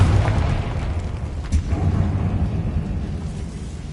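A Confringo blasting spell detonates in Hogwarts Legacy inside a decayed catacomb, a deep booming explosion with rumbling low-end that swells and trails off, repeated blasts blending into a loud continuous roar.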